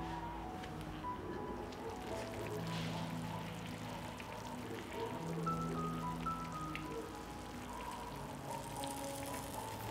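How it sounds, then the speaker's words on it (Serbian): Hot water is poured over sarma in a baking dish, making a low, steady trickle and splash that runs for several seconds at moderate closeness with no talking. "malo dodati i to sipam vruću vodu"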